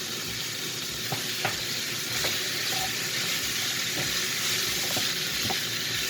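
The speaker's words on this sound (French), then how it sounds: "Et vous mélangez aux oignons. Je baisse un peu le feu. On ajoute les gousses d'ail." Onions and garlic cloves frying in a pan for a hachis parmentier, a steady close sizzle with a few light stirring clicks running throughout, no talking.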